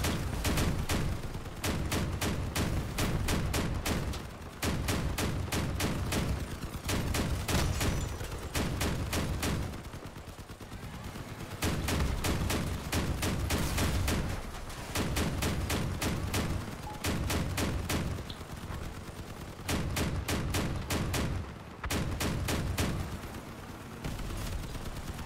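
Vehicle-mounted guns firing in the Crossout combat game: loud, sustained bursts of rapid automatic fire lasting several seconds each, broken by brief pauses, continuing throughout with no talk.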